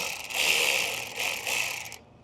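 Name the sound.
ratchet with 8mm socket loosening turbo clamp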